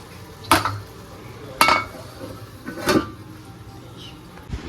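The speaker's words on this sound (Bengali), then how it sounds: "তো এই যে এবার দেখো ঢাকা দিয়ে দিচ্ছি, খুন্তিটাকে সরিয়ে।" A metal lid clanks onto a pot of chicken curry, with three sharp clattering hits spaced about a second apart as a spatula is moved aside, close and fairly loud.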